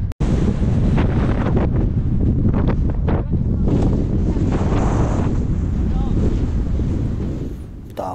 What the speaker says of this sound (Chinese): 大风竟然把我脸上的眼镜都给刮飞了